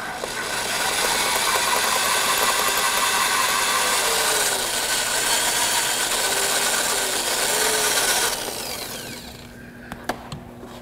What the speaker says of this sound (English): Larger drill bit. And this should go a lot quicker now that we've already got a pilot hole made.